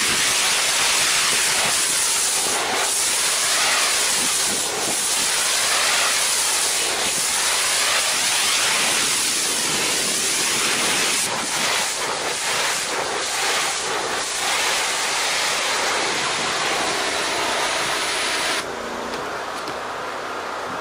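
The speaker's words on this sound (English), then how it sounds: "let's just show you how our water system cleans this" Low-pressure water spray washing a moldy, mildewed asphalt shingle roof, a steady broadband hiss that runs continuously throughout with no talk, thinning slightly near the end.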